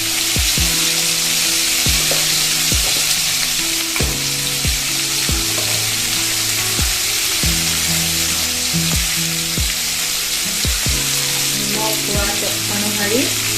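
Onions and meat fry in hot oil, giving a loud, continuous sizzle close by, with occasional stirring scrapes and intermittent tonal whines and hums over it throughout.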